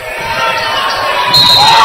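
Louisburg fans at a sub-state boys high school basketball game against Coffeyville chanting for defense: a loud, steady crowd roar filling the gym, with a commentator talking over it.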